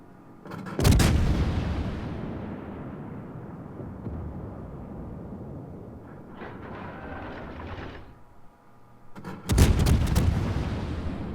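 Two loud, booming artillery salvos from a French tier-6 De Grasse cruiser in World of Warships, each a sharp blast rolling into a long rumbling decay, with quieter mechanical whirring between them.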